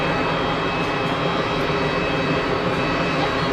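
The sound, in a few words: EasyJet Switzerland Airbus A320ceo jet aircraft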